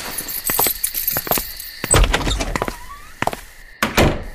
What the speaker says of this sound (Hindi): मैंने दरवाजा बंद ही किया था कि